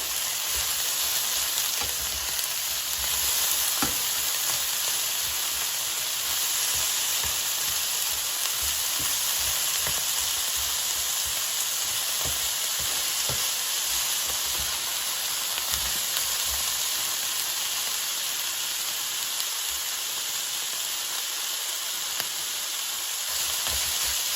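Frozen vegetables sauté in a pan with a loud, continuous sizzling hiss, and occasional faint clinks and scrapes of stirring sit under the frying throughout.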